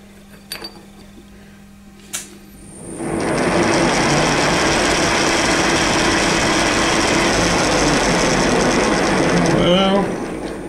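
A milling machine cuts a square thread into a pine wood stick: after a few quiet handling knocks, the motor spins up to a loud, steady whirring grind that runs about seven seconds, then winds down.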